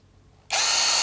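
An MLHY CID-48B-BL cordless brushless drill switches on after half a second of near silence and then runs loud and steady at a constant high whine with no other sound.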